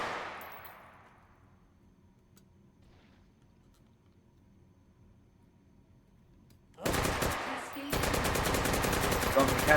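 Automatic gunfire in a video game: after a quiet lull, sustained rapid bursts of shots erupt loudly near the end and continue unbroken.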